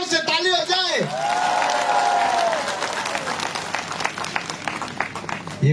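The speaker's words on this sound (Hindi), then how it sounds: "ACF के लिए जोर से ताली हो जाए।" A crowd at a public hunger strike gathering applauds loudly, a sustained clatter of many hands that follows a voice and carries on alone to the end.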